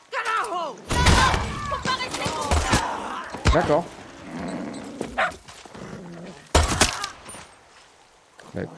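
A dog barks in the video game Far Cry 6 amid loud in-game action, with sharp thuds, crashes and bursts of gunfire-like impacts. A voice talks intermittently over the busy, uneven mix.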